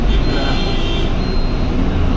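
Steady engine drone and road rumble inside an IndiGo airport shuttle bus carrying passengers out to a domestic flight, loud and continuous with no pauses or speech.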